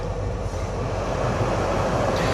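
The ventilation fan of a Ford Focus Ghia blows at full speed on recirculation, a steady, loud, broadband rushing roar that holds unchanged throughout.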